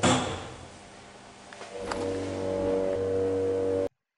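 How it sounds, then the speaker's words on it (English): A Kone hydraulic elevator motor sound effect plays back in Scratch: a click and a thud, then a steady low hum that builds and holds before cutting off abruptly. "you have your Kone hydraulic motor sound"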